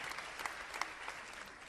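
Brief stretch of steady applause from a group, many hands clapping at a moderate, slightly distant level.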